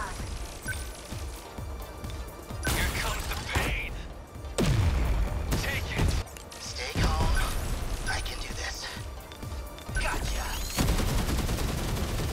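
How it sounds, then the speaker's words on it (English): Automated sentry gun firing in the sci-fi game 13 Sentinels: Aegis Rim, with repeated bursts of rapid gunfire and crashing impacts over a steady din of battle, plus some talk mixed in. "Let's put a sentry gun down here"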